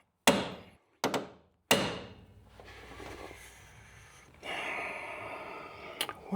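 Hammer striking a socket extension on a rear axle, three hard close blows early, then a quieter stretch of shuffling and handling noise with a sharp knock near the end.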